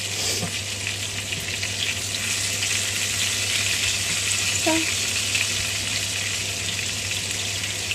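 Fish frying in a pan, with a close, steady sizzle and crackle running the whole time and a brief clink of stirring midway.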